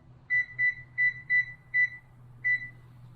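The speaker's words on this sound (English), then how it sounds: "set a timer on this so I know how long 5 minutes is" A kitchen timer set for five minutes while a coconut cream filling simmers for a keto pie gives six short, evenly spaced electronic beeps. The final beep comes after a slightly longer pause, over a low background hum.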